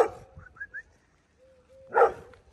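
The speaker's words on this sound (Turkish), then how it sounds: "Gel ne havlıyorsun? Bana bak, havlama bana." A chained street dog gives a few short, high yips and whines, then a single sharper bark close by.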